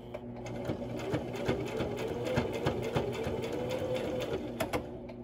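A sewing machine stitches elastic onto a fabric mask with a close, rapid, steady mechanical whirr and a few short pauses, with no talk.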